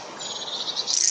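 A mistle thrush gives its dry, rattling alarm call, a brief, fairly close churr that rises slightly in strength toward the end.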